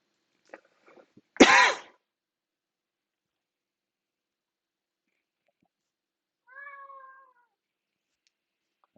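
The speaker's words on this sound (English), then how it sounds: "Hello, cat." A house cat meows once, close and clear, several seconds after a short cough-like burst, with near silence in between.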